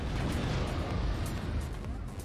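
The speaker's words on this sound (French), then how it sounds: "Explosion." A loud, rumbling explosion in a My Hero Academia anime scene, with sustained crackling debris that fills the moment and slowly tapers off.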